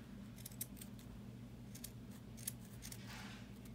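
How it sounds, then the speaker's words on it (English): A few quiet crisp snips of dull pinking shears trimming the fabric corners of a sewn cushion cover, close and isolated over a low background hum. "I'm going to cut the corners, take that little excess off the corners without cutting the stitch."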